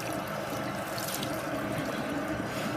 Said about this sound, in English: So I'm just squeezing and rubbing under the water.